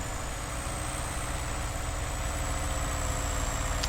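A tractor engine in a farming video game runs steadily at a constant drone, loud and close with no breaks and no talk.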